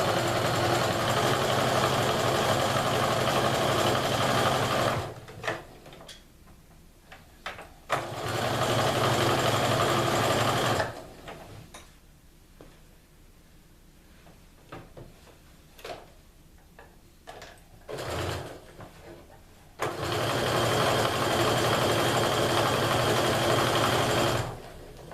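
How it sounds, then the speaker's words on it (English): A sewing machine whirs in steady bursts of stitching quilt rows together, pausing between runs with quieter clicks and handling noises before starting up again. "I'm just going to go ahead and sew the rows together"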